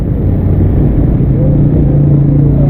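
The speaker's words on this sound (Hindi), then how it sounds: "यहाँ से आ रहे हैं मोटरसाइकिल वाले बहुत तेजी से" Motorcycles speeding along a flooded street in heavy rain in Karachi: a steady, loud, close engine rumble with a rising hum, one unbroken pass over the whole stretch, with no talk.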